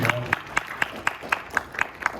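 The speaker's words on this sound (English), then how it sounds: "So you should give yourself a round of applause for that." An audience at a talk on human-centered AI in digital forensics gives a brief round of applause, with several distinct sharp claps in a steady rhythm rather than a full roar.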